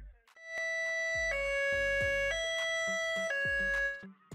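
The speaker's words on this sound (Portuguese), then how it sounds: "E finalmente, nós temos a sirene High-Low." A two-tone siren alternates between a high and a low pitch several times in a steady, even rhythm, loud and close.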